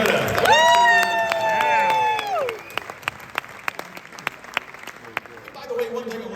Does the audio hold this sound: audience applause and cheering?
yes